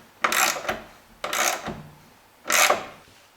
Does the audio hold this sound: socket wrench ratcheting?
yes